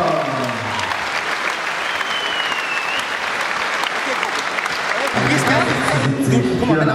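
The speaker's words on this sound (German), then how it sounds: "Applaus für beide Kämpfer." A crowd at an MMA event applauds both fighters, with sustained clapping and cheering and an announcer's amplified voice over it that grows louder toward the end.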